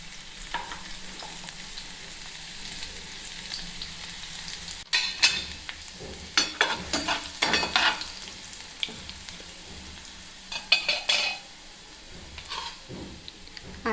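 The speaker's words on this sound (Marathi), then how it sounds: "जिरे आणि लसूण ठेचून झाला आहे तो घालूया आता ऑइलमध्ये।" Crushed cumin and garlic hit hot oil for a bhendi masala, giving a soft background hiss that breaks into several bursts of crackling sizzle and spattering after about five seconds, with no talk.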